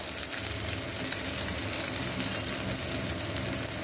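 Chopped onion and slit green chillies hit hot oil with water spinach stems, giving a loud, continuous close-up sizzle and crackle of frying, with no voices.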